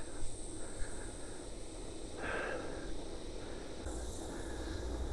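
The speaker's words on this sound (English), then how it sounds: "cicadas are quite loud" Loud cicadas in the bush beside a dirt forestry road near Elanda Point, a steady high buzz lasting the whole stretch over the rumble of a moving vehicle.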